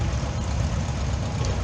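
A 1953 Minneapolis-Moline Model U tractor engine runs steadily at a parade, a dense low rumble with a broadband outdoor wash, continuous and fairly loud with no talk.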